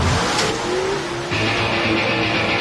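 A Nitrous Pro Modified door-slammer drag race car on a quarter-mile strip roars loudly, its engine note rising and shifting, with a brief tire squeal and crowd-level ambience around it.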